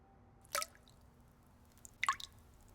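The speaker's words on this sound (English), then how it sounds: "Mommy, the tap is dripping." A dripping bathroom tap lets two separate drops fall, one near the start and a second a moment later, each a sharp wet plink in a quiet room.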